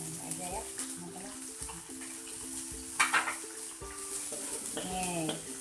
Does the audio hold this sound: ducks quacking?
no